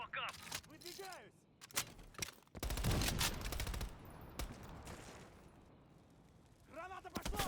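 Heavy machine gun fire from Call of Duty Black Ops Cold War comes in loud, rapid bursts through the middle, with voices shouting before and after amid battle noise.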